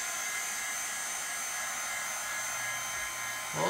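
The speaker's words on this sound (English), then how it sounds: "I love this heat gun. Crank it up to the high position." A heat gun set to high runs with a steady airy whine and rushing hiss, close and constant, shifting slightly in pitch just before the end.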